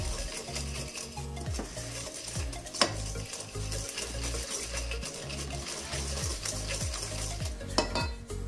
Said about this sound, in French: on va commencer au fouet et on va terminer à la cuillère en bois. Donc là, on mélange bien